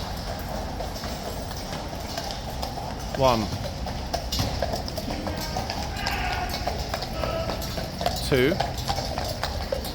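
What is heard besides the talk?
horses' hooves clip-clopping through the tunnel at Horse Guards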